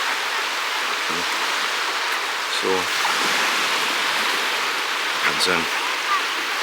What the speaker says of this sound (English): again the water makes a sound.